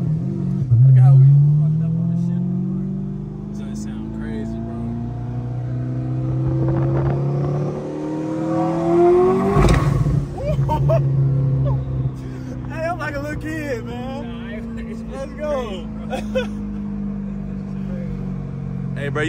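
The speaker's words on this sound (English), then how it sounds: "This just sounds crazy." A fast C8 Corvette with the top off accelerates hard, its engine rising through the gears with loud revving and shifts, while excited voices talk over it inside the car.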